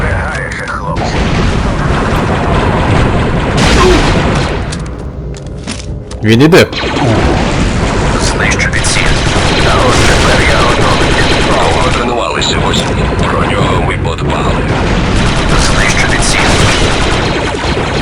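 Sustained gunfire in a Star Wars: Republic Commando game crackles through the whole stretch, bursts and single shots mixed with booms, loud and near, with brief voices talking over it.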